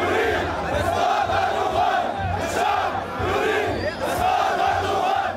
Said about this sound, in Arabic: ورددوا هتافات ضد تركيا ورئيسها رجب طيب أردوغان